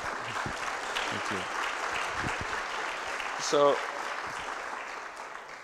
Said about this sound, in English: Go on, clap.